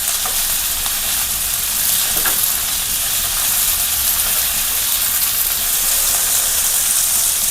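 Capsicum sautés in a pan for egg thoran with shallots, producing a loud, steady sizzling hiss that holds constant, with only faint stirring sounds.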